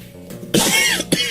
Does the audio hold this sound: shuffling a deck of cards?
no